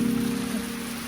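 Steady rain falls on a cottage at Tuca Lake, a continuous even patter and hiss with a faint low hum beneath, close by and unbroken, with no voices.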